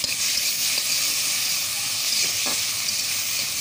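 Shrimp frying in a pan with a little salt and turmeric, giving a loud, continuous bright sizzle and hiss close up, with a couple of faint soft knocks underneath.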